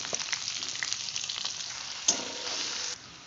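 Two large chopped onions fry with cinnamon and cloves for veg dal khichuri, a steady close hiss of sizzling oil with a sharp clink partway through before it drops off.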